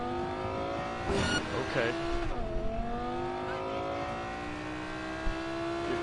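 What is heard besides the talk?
car driving in the Cyberpunk 2077 video game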